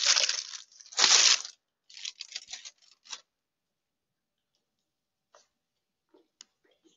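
Crunchy bites into a crunch wrap, two loud close crackling crunches followed by a few smaller crisp chews that fade into near silence with faint scattered clicks.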